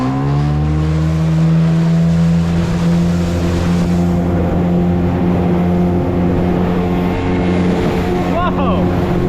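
Loud, steady drone of a boat's outboard motor at trim setting 2 on a large lake, running at speed close by, with wind and hull noise blended in and a voice speaking over it.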